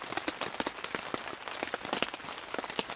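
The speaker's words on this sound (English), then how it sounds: "It's been raining nonstop." Rain pattering steadily on a large hot tent while camping, with dense irregular drops tapping close by on the fabric and no voices.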